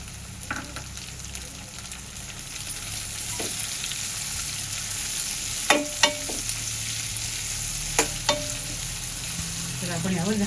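Sliced onions sauté in oil over fried garlic in a pan, a steady hiss of frying with a few scattered metallic clinks of a spatula and stirring scrapes, no talking.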